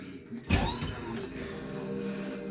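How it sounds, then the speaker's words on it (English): Doors of a historic tram at the Stuttgart tram museum opening at a button press: a sharp clunk followed by a creaking, whirring mechanical slide that fades into a steady hum, close by and with no talk. "This is how the doors would open if you press the button."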